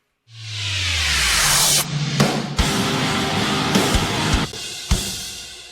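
A rising snare build-up swells into a sharp drum hit, then the drums continue with sustained chords and periodic accents.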